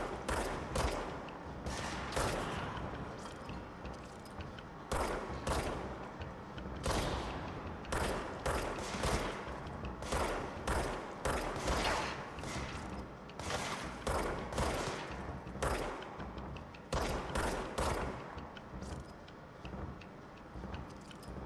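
Gunfire in the video game Control comes as rapid bursts of shots in a repeating rhythm across the whole stretch, loud and close, with short gaps between volleys.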